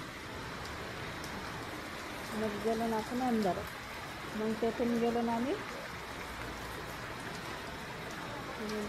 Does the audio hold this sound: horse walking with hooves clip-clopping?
no